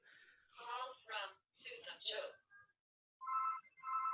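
A telephone rings in short electronic bursts, with a person talking over the first rings before the tone repeats alone.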